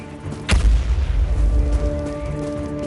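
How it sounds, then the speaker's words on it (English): Grenade explosion in a multiplayer shooter made in Dreams on PlayStation: one sharp, loud blast followed by a deep rumbling tail that fades slowly, heard alone without talk. "I like the explosions, the sound effects and stuff with the grenades"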